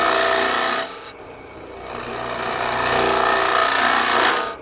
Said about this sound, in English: We're going to use this ball mill to come straight across that bottom.